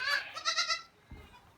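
Kiko baby goat bleating in a barn: a few quavering, wavering bleats in quick succession up close, then a soft low thump as it fades.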